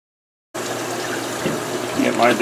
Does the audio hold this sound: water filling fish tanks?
yes